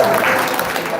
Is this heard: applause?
yes